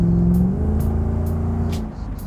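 A Jaguar XK8 V8 engine pulls hard under acceleration, a loud steady low growl that rises smoothly in pitch and holds strong throughout, close to the car with no talking.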